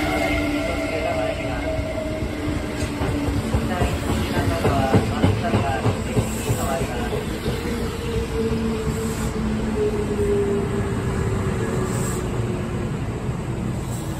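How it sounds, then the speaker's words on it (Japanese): A Kintetsu Hinotori limited express train rolls into a station with a steady rumble and rhythmic clatter, a long whining tone sliding downward as it slows. "The limited express bound for Ujiyamada is arriving at track 5."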